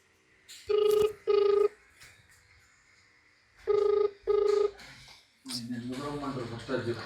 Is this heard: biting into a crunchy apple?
no